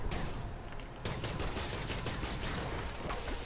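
Gunfire in a Spider-Man video game comes as a dense, continuous barrage of rapid shots at close range, loud and unbroken for the whole stretch.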